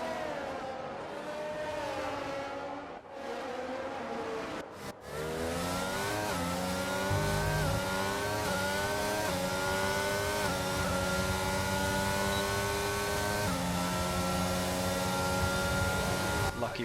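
Formula 1 race cars in F1 22 at the Dutch round roar past in a loud, sustained high-pitched engine scream, revs climbing and shifting as cars go by, with a commentator talking over it.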